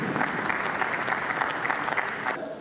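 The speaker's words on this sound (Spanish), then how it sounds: "un aplauso para el hermano Fidel Castro" Dense crowd applause at a televised political gathering honoring Fidel Castro, steady and loud throughout without a break.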